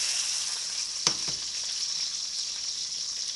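Hash browns fry in a pan with a steady, bright sizzle, broken once by a sharp tap or scrape of a utensil early on, with no talk.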